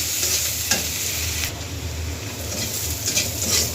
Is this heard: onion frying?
yes